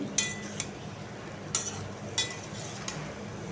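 Large diced potatoes with salt are stirred in a pan, giving a handful of quiet, sharp scraping clinks of a utensil against metal at uneven intervals over a faint, steady sizzle.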